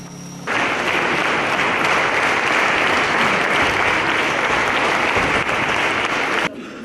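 Loud, sustained applause from a large indoor hall audience at a book presentation in Lviv, steady and dense for several seconds before cutting off abruptly.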